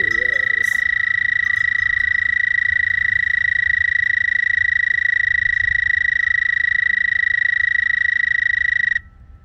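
A toad on a homestead in spring calls loudly and continuously, holding one steady, high trill for about nine seconds before abruptly stopping, close to the microphone over faint low background rumble.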